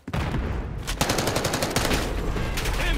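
Rapid bursts of automatic gunfire from an online shooter video game, loud and continuous with repeated shots over a few seconds.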